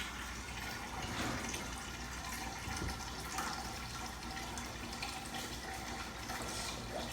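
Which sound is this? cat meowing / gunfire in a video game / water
water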